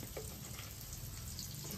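Dried fish frying village-style in oil with turmeric, salt and chilli masala, a steady close sizzle and crackle that holds level throughout the short stretch.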